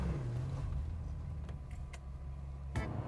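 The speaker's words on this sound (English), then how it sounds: "The V8 engine noise is intoxicating." Maserati 4200 GT V8 driving along, its low steady engine drone holding throughout, with a brief sharper knock or click near the end and no talking.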